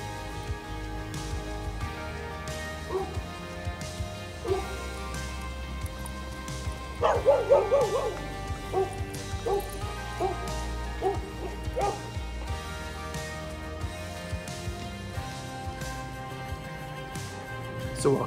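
A dog barking and yipping during a walk outdoors on a hot morning, a cluster of sharp close barks in the middle over steady background rumble, with scattered softer yelps before and after.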